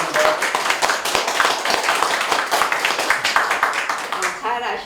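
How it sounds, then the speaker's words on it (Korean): An audience claps in welcome for an artist at an artist talk workshop, dense, steady applause throughout, fairly near and moderately loud, with a voice briefly at the end. "박수로 맞아주시기 바랍니다"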